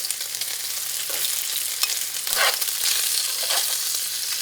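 Bacon sizzles and crackles in a hot pan with a steady, close, hissing fry. Brief stirring scrapes sound at a few points, and no voices are heard.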